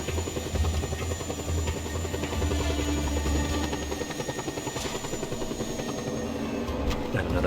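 Video game helicopter rotor drone, a steady low throbbing hum that holds evenly throughout at moderate distance, with no talk over it.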